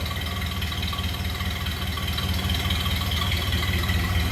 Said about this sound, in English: Just what you'd expect to hear coming out of a Model A